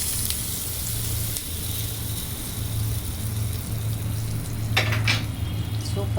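Mustard seeds and urad dal crackle and sizzle in hot oil as a tempering for curd mango, a steady close frying hiss with a cluster of sharper pops near the end.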